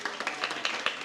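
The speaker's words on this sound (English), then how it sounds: "Let's give him a big round of applause." Brief, dense clapping rises from a gathered devotional audience in Vrindavan, a short burst of applause heard close and on its own.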